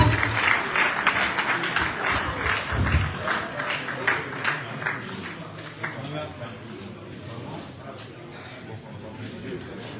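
Public audience applauding seven graduating students at a canonical diploma ceremony, clapping loudest at first then thinning and fading, with voices and some chuckling mixed in.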